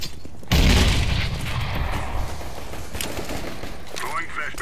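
Grenade explosion in the video game CS:GO, a loud sudden boom that sets in after a brief quiet and then rumbles and decays under ongoing game noise and distant gunfire.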